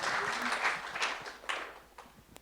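Brief applause from a small audience at a regional business round table, a soft burst of clapping that fades quickly into a few scattered claps, with a faint voice underneath.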